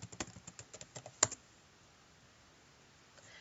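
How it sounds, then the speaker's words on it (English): Quick bursts of keystrokes on a computer keyboard as login details are entered, close and fairly quiet, ending in one firmer key press followed by near silence. "So I would type in my login information"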